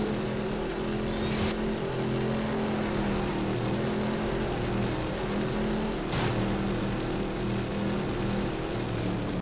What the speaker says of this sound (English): The car sounds really do seem like too much.